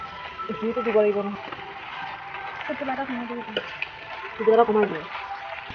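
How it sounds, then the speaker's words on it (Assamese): Duck meat sizzles and frying in a wok as it is stirred, with a clattering scrape of the spatula in several bursts; voices talk softly in the background. "এয়া পুৰা মাংস দিছে কেৰাহীত, লৰাই আছে"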